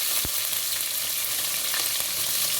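Onion frying in a pan gives a steady, dense sizzle close up, with a brief knock of a utensil near the start.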